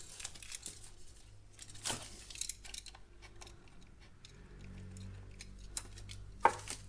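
Scissors cutting thin decoupage paper close by, with quiet, intermittent snips and papery crinkles spread across a few seconds.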